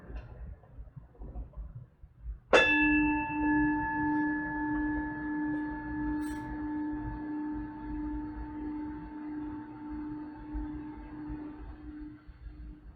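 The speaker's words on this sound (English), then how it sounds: "So I'm going to ring the gong one last time" A meditation gong is struck once with a sharp attack, then rings on in a long, steady, resonant hum with clear overtones that slowly fades over about ten seconds, alone in a quiet room.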